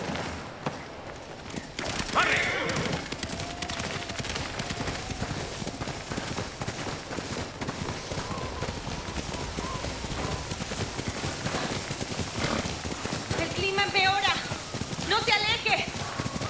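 Horse hooves clatter in a steady galloping clip-clop through a snowy scene in the video game Ghost of Tsushima, continuous and fairly close, with game speech and brief bright effects over them.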